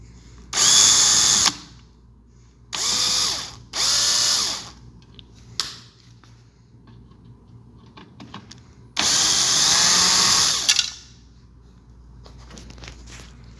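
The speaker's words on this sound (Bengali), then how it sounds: "স্ক্রুগুলো খুলে নিব।" A handheld power drill backs out the thermostat screws on a window air conditioner, whirring in several short bursts of one to two seconds with quiet pauses between, close and loud.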